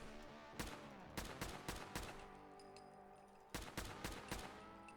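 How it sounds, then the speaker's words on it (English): Recon assault rifle gunfire from a Fallout weapon mod: two groups of single shots at a steady pace, sharp and moderately near, each with a short echoing tail, quiet overall. "Recon assault rifle."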